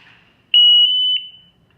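A portable gas detector for O2, H2S, CO and combustibles gives a loud, steady high-pitched electronic tone on powering up, lasting about three-quarters of a second with two brief pulses at its start and end, then falls silent.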